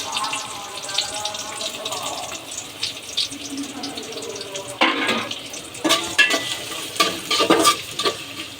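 Onion and garlic go into a hot pan on a stove, with sizzling frying and stirring that grows louder and more crackly partway through, mixed with some background kitchen noise.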